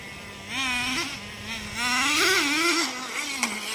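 A Traxxas Jato 3.3 nitro RC truck running on wet grass, its small engine buzzing and revving in rising and falling pitch, loud and close, with one surge that holds high before easing off.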